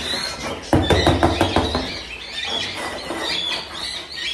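Pet birds chirp and tweet in a home aviary during cage cleaning, a dense, bright chatter with a quick run of sharp calls near the start, fairly loud and close.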